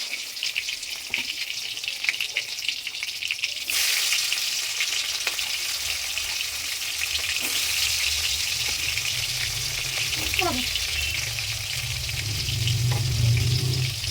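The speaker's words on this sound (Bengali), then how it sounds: "চিংড়ি মাছগুলো একটা একটা করে ছেড়ে দেবো।" Prawns dropped one by one into hot oil in a wok set up a loud, continuous frying hiss that swells as more go in, with a few spatters and a low hum underneath.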